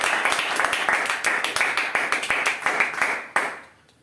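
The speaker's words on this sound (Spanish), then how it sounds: "Denle una ofrenda de palmas al Señor." A church congregation claps hands together as an offering of praise during a Spanish-language service, a loud, fast, steady burst of applause that stops abruptly and fades out near the end.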